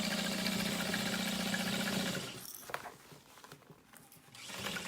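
A sewing machine stitches straight across the bottom of a backpack with piping. A steady, close mechanical whir runs for about two seconds, then stops and leaves faint handling noises.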